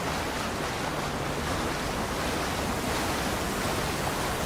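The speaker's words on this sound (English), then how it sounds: "Think there's anything behind these waterfalls?" Steady, full-band rushing wash of a waterfall in the video game Avowed, loud and unbroken with no voices.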